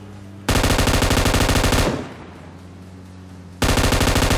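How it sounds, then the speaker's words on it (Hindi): Gunfire in PUBG Mobile pours out in loud, rapid automatic bursts, a long stream that cuts off and then resumes near the end, close and dense with no talk over it. "यहाँ पे मैं स्मोक में फायरिंग करता हूँ थोड़ी देर"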